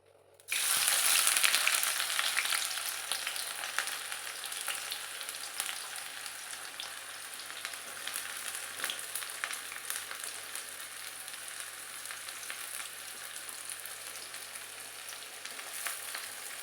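Onion drops into hot oil for a Bombay duck jhal fry, bursting into a loud sizzle that settles into a dense, continuous crackle lasting throughout.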